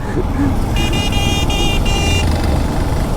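A thin, weak motorcycle horn honks in several short bursts over loud engine and road noise, with voices nearby.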